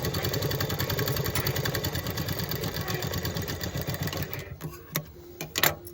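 A sewing machine stitches fabric with a fast, steady mechanical whirr of needle strokes, loud and close for several seconds, then stops with a few clicks and light handling noises.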